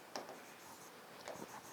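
Pen writing on paper during a biology lesson, two short faint scratchy strokes separated by a pause, quiet and close with no talking.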